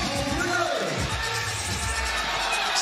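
Crowd at a women's FIBA 3x3 basketball game between Hong Kong, China and Egypt, cheering in a steady roar that swells over the court noise, with a commentator talking throughout.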